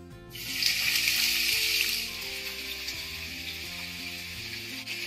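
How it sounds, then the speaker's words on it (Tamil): Prawns frying in hot oil with butter for garlic prawns, a loud, dense sizzle that bursts up as they go in and then settles into a steady crackle, with background music underneath. "நம்ம ஃபர்ஸ்ட் நம்ம prawn இது ஆயில்ல ஃப்ரை பண்ணிக்கலாம்."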